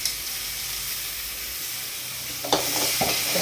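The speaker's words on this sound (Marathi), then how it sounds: "मिरची हिरवी मिरची देखील मस्तपैकी परतलेली आहे" Green chilli and garlic sizzling in a pan for a spinach dish, a soft continuous hiss that swells louder midway as stirring scrapes and clicks join in, close and fairly quiet, with no talking.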